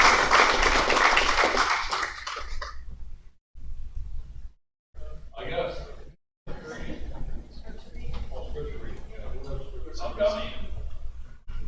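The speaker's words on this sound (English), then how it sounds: "So I'd like to give Brian a applause." Church congregation applauding in a Church of Christ in Brookville, Pennsylvania: a dense, loud burst of clapping for about three seconds, followed by short gaps and people talking with scattered claps and taps.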